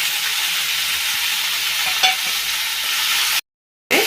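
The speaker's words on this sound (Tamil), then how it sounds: "நல்லா இப்போ கொஞ்சம் இப்படி நல்லா ஃப்ரை பண்ணிக்கணும்" Onion and tomato fry in a pan with a loud, continuous sizzling hiss and occasional stirring scrapes, close up, cutting briefly to silence near the end.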